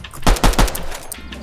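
Pistol gunfire in the Fortnite video game: three quick, loud, close shots in a rapid burst, followed by a fading tail.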